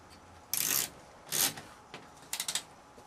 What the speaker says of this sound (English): if you start to tighten the nut like that, so it's starting to grip the frame, and all I need to do then is just tighten it up